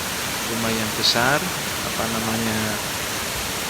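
Steady broadband rush of the Sekar Langit waterfall in Central Java, where visitors play in the water below, flowing continuously under a voice speaking over it.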